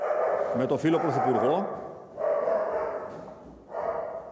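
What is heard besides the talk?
dog barking, recently adopted dog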